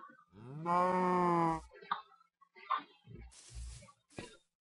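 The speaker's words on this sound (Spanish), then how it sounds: "Una vaca." A cow in the Minecraft video game gives one long, loud moo with stacked harmonics, followed by brief game effects and faint background sounds.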